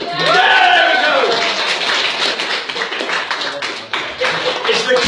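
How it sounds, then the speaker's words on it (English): A comedy club audience applauds after a set of puns about US states, giving a dense burst of clapping with some cheering that stays loud throughout and eases slightly near the end. "It's the kind of applause that says, "Thank God it's over.""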